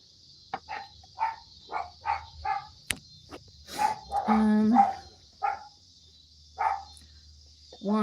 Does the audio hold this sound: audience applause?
no